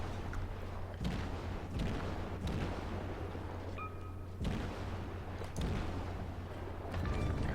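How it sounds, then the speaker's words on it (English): Naval guns firing in the World of Warships game, a repeated series of heavy booms at irregular intervals over a constant low engine drone, with faint higher tones between shots. "I think somebody is finally shooting at him"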